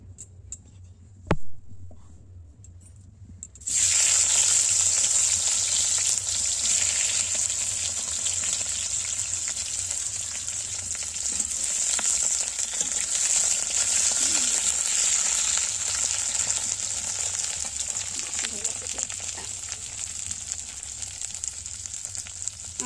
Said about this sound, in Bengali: আপনারা দেখুন আমার বৌমা কেমন সিম ভাজা করে।